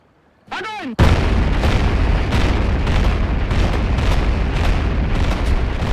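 Soviet cannons and multiple rocket launchers firing at Stalingrad in November 1942, a whistling launch followed by a sustained loud barrage of overlapping blasts and rumbling explosions that continues without pause.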